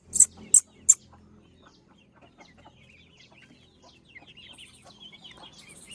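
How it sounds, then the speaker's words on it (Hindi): Chickens and chicks pecking at scattered grain, opening with three sharp loud clucks, then soft scattered pecking, scratching and faint chirps nearby. "कुछ मुर्गे चूजे आए हैं, कुछ अभी नहीं आए"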